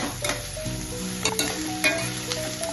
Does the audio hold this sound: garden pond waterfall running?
no